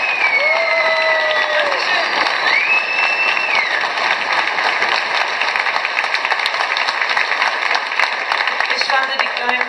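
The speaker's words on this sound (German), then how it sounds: "Erstmal einen riesen Applaus für dieses ganze Team" Sustained audience applause and crowd noise for a line-dance team at a festival hall of fame ceremony, steady and loud throughout, with whistles and cheers cutting through.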